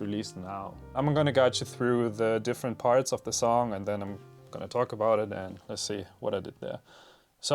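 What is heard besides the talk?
No everyday noises stand out.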